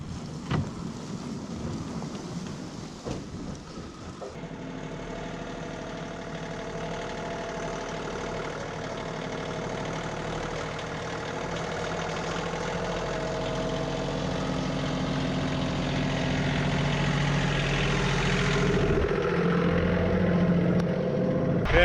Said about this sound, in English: I got my John Deere tractor out.